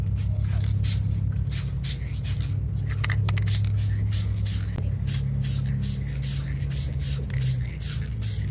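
Spray paint applied to a repaired rusted door: rhythmic bursts of close hissing spray, one after another, over a steady low hum.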